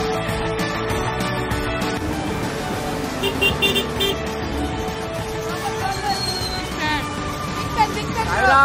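Dense road traffic during a palanquin pilgrimage crawl: engines, rolling vehicles and repeated car horn toots blend into a continuous loud din, with people talking throughout.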